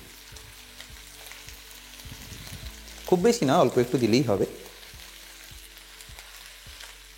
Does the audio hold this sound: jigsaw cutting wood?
no